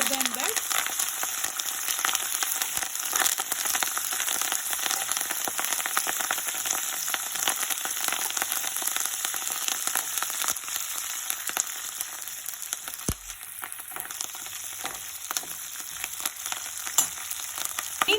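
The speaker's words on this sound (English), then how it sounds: "time to add this fresh curry leaves and the ginger. So I washed the curry leaves and we have to fry for only 1 minute" Fresh curry leaves and ginger fry in a pan for curry leaf chutney, making a dense, continuous, fairly loud crackling sizzle that holds steady throughout with one brief knock partway through.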